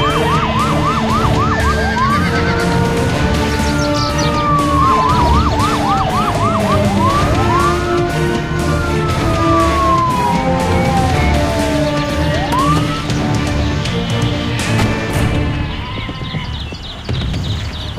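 Several emergency vehicle sirens, ambulance and fire brigade, wail and yelp loudly and continuously, rising and falling sweeps overlapping with fast warbling bursts over steady traffic rumble, fading slightly at the end.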